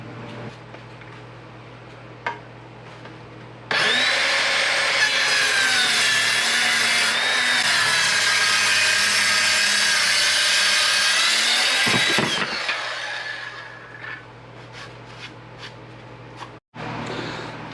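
A power saw trims wooden boards to rough length for a custom Kubota toolbox, a loud sustained cutting roar of about eight seconds that winds down, framed by quiet handling knocks before and after.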